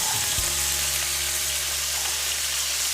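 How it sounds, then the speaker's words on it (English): Onions frying in hot oil in a pan, a loud, even sizzle that holds steady throughout after a low bump near the start. "Start over here in this pan with some onions."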